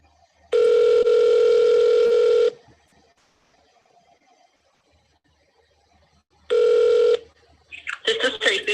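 Telephone ringback tones on an outgoing call, two long steady rings separated by a few seconds of silence, loud and close, with a voice answering at the end.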